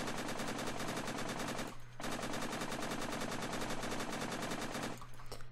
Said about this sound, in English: I noticed this thing has a really high fire rate. Like, it spams a lot of bullets.